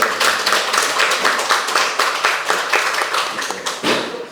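Clapping during a church worship service, a room of congregants applauding together in a dense, steady patter of claps that stays fairly loud throughout, without talk over it.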